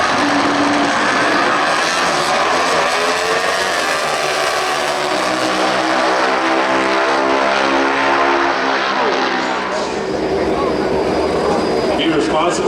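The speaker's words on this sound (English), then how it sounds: "Matt Smith, the Denso bike, in the right side. Angel on the left." Top Fuel drag motorcycles, a Harley-Davidson against a Suzuki at the NHRA Gatornationals, roar at full throttle, a loud sustained engine howl sweeping in pitch, with an announcer talking over it.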